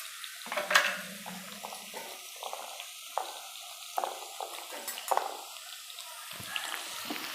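Chopped onion and curry leaves hit hot oil in a pan for a ridge gourd chutney, giving a steady close sizzle broken by bursts of crackle and stirring scrapes.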